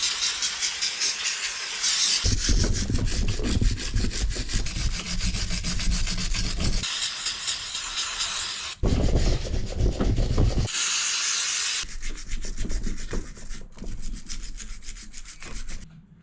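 Brake caliper parts from a WRX scrubbed hard with a brush, close and loud, in long bristly scrubbing bursts with short pauses between, no voices.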